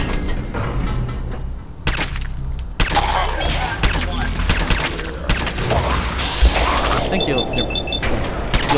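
Gunfire in Fallout 4's Automatron add-on, with heavy booming shots and thuds at irregular intervals amid dense game effects, loud and close, while a voice talks over it.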